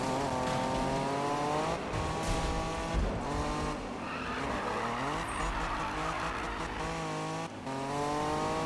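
A car drifts through a sharp turn with the e-brake pulled in Need for Speed 2015. A loud engine drone rises and falls while the tires squeal and skid, a continuous, close racing sound with no talking.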